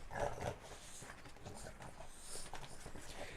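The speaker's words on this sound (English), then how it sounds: "they go nuts because they're actually very smart dogs, right?" Two dogs at home whimpering and yelping excitedly, a faint, busy mix of whines and small barks over low room noise.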